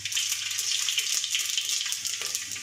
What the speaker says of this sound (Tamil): எண்ணெய் சூடாயிடுச்சு. கடுகு கொஞ்சம், பெருஞ்சீரகம் கொஞ்சம் போட்டுக்கோங்க.